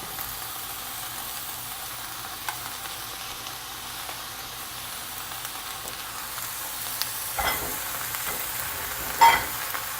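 Leafy napa cabbage sizzling softly in a hot pan, a steady low frying hiss with occasional stirring clatter and a brief louder scrape near the end.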